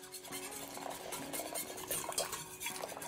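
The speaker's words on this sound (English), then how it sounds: "I'm just going to add the cornstarch, and you want to whisk that around" A whisk beating cornstarch into warm crème anglaise custard in a pan, a quiet continuous metallic scraping and clinking against the bowl at a steady pace.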